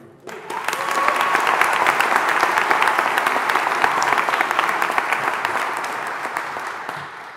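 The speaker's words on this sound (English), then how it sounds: "Let's cheer for all of you." A graduation ceremony audience at Greenwich bursts into sustained applause and cheering, dense clapping from a large crowd rising quickly and holding steady before tapering slightly at the end.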